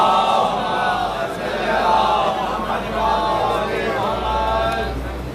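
A gathered crowd at a mawlid for the birth of Zainab chants salawat together in unison, a loud rolling wave of many voices rising and falling over several seconds.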